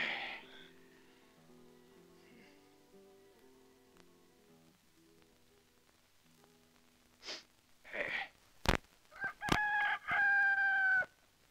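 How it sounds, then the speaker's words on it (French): A rooster crows loudly and close by in a spaghetti western film, several harsh bursts near the end after a quiet stretch of soft tonal sound. "Un de ces jours, je lui tordrai le cou à ce maudit coq."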